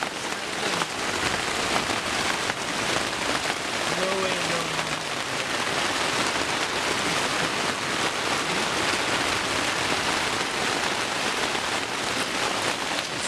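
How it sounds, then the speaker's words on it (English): Heavy rain pours steadily at a campsite in Porcupine Mountains Wilderness State Park, a loud, dense hiss of drops drumming on a surface without letting up, with a brief voice briefly audible beneath it. "So much rain."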